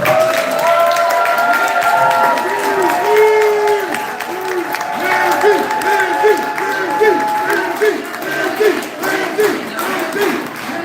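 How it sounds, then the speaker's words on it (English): A crowd at a community newspaper's fifteenth-anniversary celebration claps loudly and warmly, with voices and cheering mixed into the applause for the whole stretch. "So let's give us a warm round of applause for"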